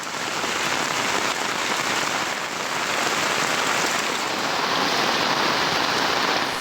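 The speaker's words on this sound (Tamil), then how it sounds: "தேனி மாவட்டத்தின் பல்வேறு பகுதிகளில் காற்றுடன் கூடிய மழை பெய்த நிலையில்" Heavy summer rain driven by wind pours down in Theni district, a dense, loud, unbroken roar of drops on surfaces with no pauses or voices.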